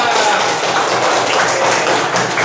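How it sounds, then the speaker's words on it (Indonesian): Students clapping together in a classroom after a group presentation, a dense, steady patter of many hands that stays loud and even for the whole stretch, with some voices mixed in. "Kasih aplaus untuk teman kalian."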